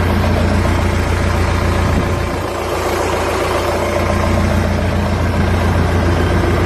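A 1974 Case 580B CK backhoe with its old 188 engine idles steadily, a close, continuous low rumble that holds even throughout with no voices.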